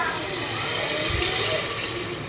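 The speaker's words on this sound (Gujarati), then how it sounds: "ચાલો મસ્ત પાણી નાખી દીધું છે" A continuous rush of water pours into a cooking pot over a spiced tempering, steady and fairly loud for a couple of seconds.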